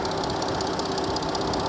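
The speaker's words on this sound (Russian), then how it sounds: "Так, завели. Мотор работает, в принципе," A Volkswagen Touareg engine idles steadily up close with a smooth, even hum and a faint ticking texture, with no other sounds over it.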